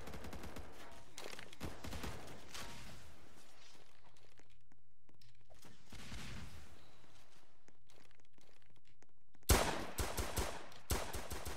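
Rapid video game gunfire in a first-person shooter, several bursts of automatic fire and single shots, with a quieter stretch in the middle and then a loud, close volley near the end.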